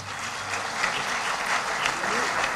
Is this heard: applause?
yes